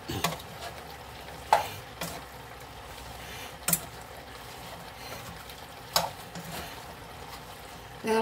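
A spoon stirring Old Bay seasoning into clam chowder in a pot, quiet scraping and swishing with a few sharp clinks against the pot and a faint sizzle beneath, no talk.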